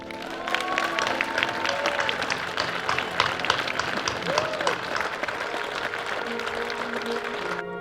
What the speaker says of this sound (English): please give a warm round of applause to Tom Cowan.